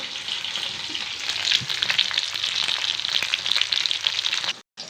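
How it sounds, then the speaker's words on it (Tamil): Tomatoes sauté in an oil-filled pan for an eggplant biryani dish, giving a steady, loud broadband sizzle that runs nearly unbroken, with faint stirring clinks, and then cuts off abruptly near the end. "ஸோ இப்போ இது நல்லா வதங்கட்டும் தக்காளி"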